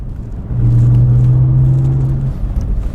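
A BMW 330i E46 Touring estate car's engine pulls up through the gears, a close, loud, rising drone from the cabin that swells and holds for a couple of seconds before easing off.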